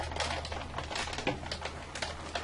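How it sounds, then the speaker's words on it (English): A paper-crafting die-cut machine is hand-cranked with an embossing folder holding cardstock under a cutting plate, giving a close, busy run of rapid mechanical clicking and grinding that keeps on steadily without pause. "And then just crank it through and look at the beautiful design that comes out on the other side."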